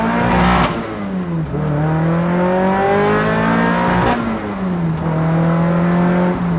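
A Toyota MR2 with a swapped-in Camry engine accelerates hard from the inside. The engine pitch climbs steadily through the gears, and two shifts bring a brief drop before it rises again, loud and without voices.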